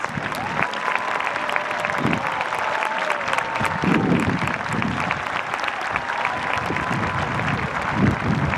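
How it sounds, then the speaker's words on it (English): Applause from a crowd at an outdoor high school commencement ceremony, a dense, steady wash of clapping with occasional louder swells and faint voices underneath. "Let's give them a round of applause."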